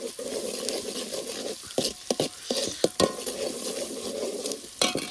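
A large pot of chicken curry being stirred over a sizzling fire, with repeated scraping strokes and clanks of the ladle against the pot over a constant frying hiss.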